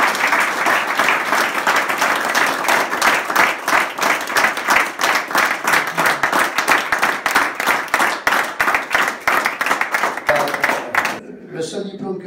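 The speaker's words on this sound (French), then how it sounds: "Donc on va tous applaudir" Sustained, dense audience applause at a restaurant owners' gathering, loud and steady for about eleven seconds before fading out, with a voice briefly audible at the end.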